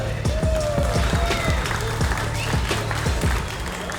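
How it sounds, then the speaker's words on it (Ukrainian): A fight-event crowd applauds a fist fighter at a KLAN FC bare-knuckle show, steady dense clapping over a pounding rhythmic low beat, loud and continuous throughout. "Оплески Андрюхе!"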